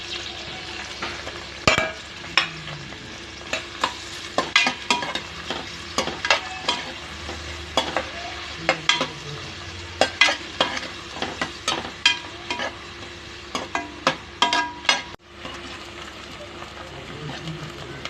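Three medium-sized large onions, cut up and sautéing in a pan for chicken biryani until browned, giving a soft steady sizzle broken by repeated sharp scrapes and clacks of a spoon stirring against the pan.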